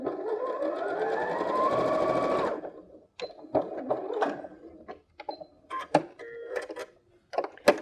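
A sewing machine runs steadily for about two and a half seconds, stitching quilt squares together, then falls to a series of short, uneven clicks and taps as the fabric is handled.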